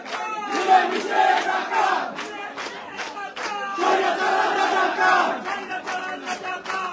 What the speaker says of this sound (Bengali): ছাত্র দলের যে নেতাকর্মীরা রয়েছেন তারা নানান ধরনের যে স্লোগান সেই স্লোগান তারা দিচ্ছেন